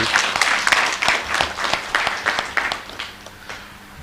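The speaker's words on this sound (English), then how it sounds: "I was wondering if that clapping was loud enough for such a beautiful presentation" An audience claps after a presentation at a public relations workshop on policing, with brisk, dense applause that gradually thins and softens toward the end.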